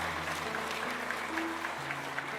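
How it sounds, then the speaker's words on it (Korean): A church congregation applauds a missionary family after a prayer, a soft, steady patter of many hands heard from a distance, with a low sustained organ or keyboard tone underneath. "우리 선교사님 가정 다시 한번 박수로 복돋으시겠습니다"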